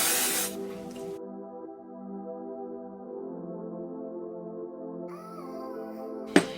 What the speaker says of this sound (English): So just give it a good shake and then spray it all along the hairline